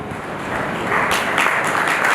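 An audience applauds to welcome a guest at a public ceremony, a dense clapping wash that swells and grows louder after the first second and keeps going.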